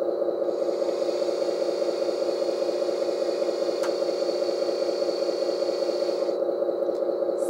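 Small electric motor of a custom model crane tractor lifting cargo, a steady mid-pitched whine and hum that holds level for several seconds before easing off, close and alone.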